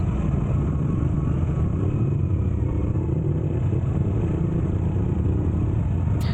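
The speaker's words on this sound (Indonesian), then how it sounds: "motor kami rata-rata dalam motor adventure, jadi jalur seperti ini masih aman dan relatif menyenangkan untuk dilalui" Adventure motorcycles ride along a muddy, slippery road on Flores, giving a continuous low engine rumble and road noise at a steady level throughout.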